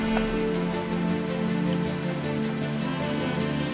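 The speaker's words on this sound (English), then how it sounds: "We can just kind of hold up until the rain slows down a bit." A heavy rain downpour drums steadily and densely on a surface out in the Rockies. A low, constant hum runs underneath, and no one speaks.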